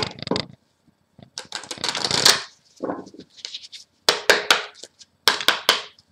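Lenormand cards shuffled and laid out on a table for a singles' love reading: brisk bursts of riffling and soft slaps in separate clusters, close and fairly loud, with no one speaking.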